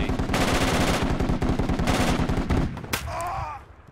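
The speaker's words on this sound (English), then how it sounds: "No, that's MG." Machine gun fire in the Project Reality military shooter, a loud rapid burst of steady automatic shots lasting about two and a half seconds, then a sharp crack and fading noise.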